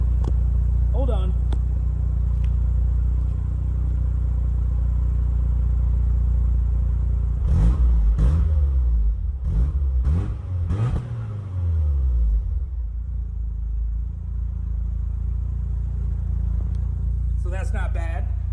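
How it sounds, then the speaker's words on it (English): A Mazda RX-7 FC sports car with a deep exhaust note idles with a low rumble, then gives several sharp throttle blips that rise and fall, settling back to idle before a voice cuts in at the end. "One of my favorite bits about this car is the exhaust note. It's actually kind of deep."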